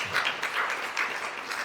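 Audience at an ISO 50001 and ISO 14001 sensitisation workshop in Lagos gives a brief round of applause, a steady even patter of many hands clapping at moderate level with no talking over it.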